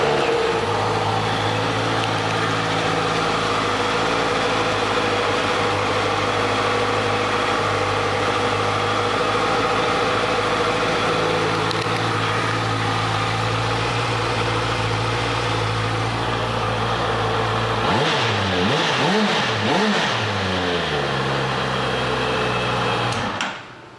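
A 2014 Honda CB650F motorcycle engine idles steadily and loudly up close for most of the stretch, then revs in several quick rising and falling blips near the end before cutting off.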